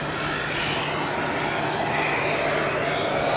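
Helicopter in flight on a rainy-day outing, a loud constant engine drone heard close and steady throughout with no break.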